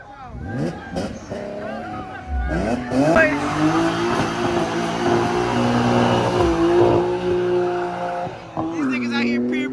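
A car does burnouts, its engine revving hard and holding a steady roar with tires squealing, close and loud, while a crowd cheers and people talk over it.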